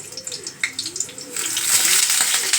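Salted pointed gourds (potol) being lightly fried in a pan for doi potol, a soft sizzle that swells into a louder, steady frying hiss, with a voice heard faintly over the start.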